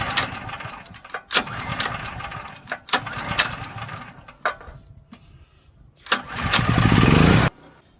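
A Firman generator engine is pull-started with the choke half on: sharp, repeated recoil-pull rasps, then a brief sputtering catch that runs loud for about a second before cutting out. No one speaks.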